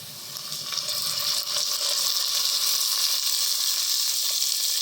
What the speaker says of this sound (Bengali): এবার তেজপাতা এলাচ চিনি লং এগুলো দিয়ে আরেকটু ভেজে নেব